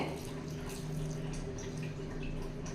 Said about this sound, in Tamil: நான் ஒரு 1/4 டம்ளர் அளவு மட்டும் தண்ணி சேர்த்திக்கிறேங்க